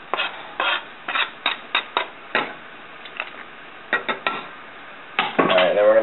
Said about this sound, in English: But I'm going to throw those in first into our boiling pot.